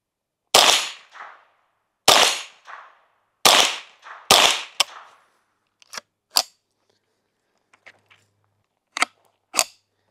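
Suppressed .22 pistol fired outdoors: four sharp cracks spaced about a second and a half apart, each with a short trailing echo, followed by a few fainter, quicker shots and two final pops, no talking.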